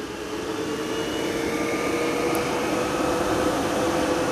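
A planter's blower fan motor runs at full speed, a steady, even whooshing hum with no pauses, close and constant.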